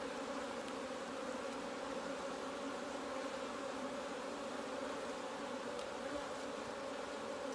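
Honeybees buzz steadily in an open beehive during a frame inspection, a dense, even drone close by that continues without pause.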